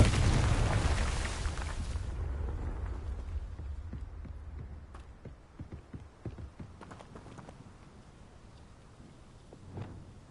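A Confringo blasting spell explodes in Hogwarts Legacy, a loud broadband burst with a deep rumble that drops away after two seconds, followed by scattered smaller crackles, thuds and debris hits with a fresh low boom near the end.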